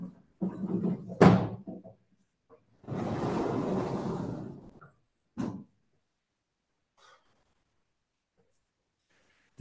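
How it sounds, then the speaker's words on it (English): A door being closed indoors: a sharp knock around the start, a longer rushing swing sound, then a single firm thud as it shuts, followed by near silence. "I'll close the door here"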